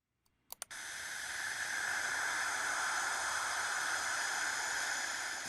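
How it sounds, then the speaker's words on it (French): A Cassini radio recording of charged particles between Saturn's rings opens with a few sharp clicks, then settles into an even, continuous hiss that holds steady to the end, with no speech. "Ce sifflement est produit par des particules chargées dans l'environnement."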